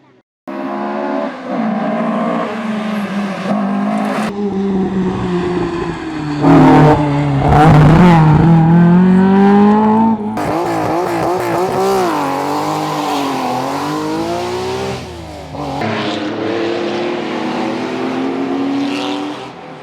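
Historic rally cars race on a stage of the Rallye du Chablais, part of the FIA European Historic Rally Championship, with engines revving loudly and shifting pitch as they accelerate and pass close by.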